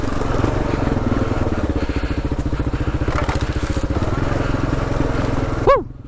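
Dual sport motorcycle engine working on a motorcycle-only enduro trail, a loud, close, rough pulsing drone with crackling throttle bursts that holds steady, then cuts off sharply near the end.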